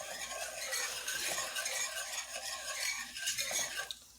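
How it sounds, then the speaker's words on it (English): Roux is stirred constantly in a pan, a utensil scraping and clicking against the metal in a quick repeated rhythm over a soft sizzle, close and fairly quiet, with no talking. "The reason I'm constantly stirring it is so it doesn't lump up anymore."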